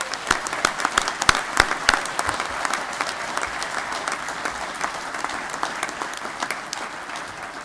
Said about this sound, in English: Please join me in a round of applause in congratulating those students on this happy occasion.